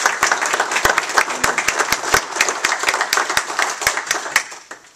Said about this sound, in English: And thank you for that applause.